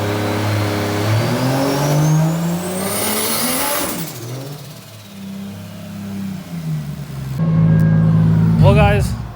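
A 1.5JZ-swapped Nissan 240SX, with a fuel-pressure drop and a slipping clutch, revs hard on a dyno, climbing to a screaming peak and falling back. A second loud rev follows, and people talk over the engine.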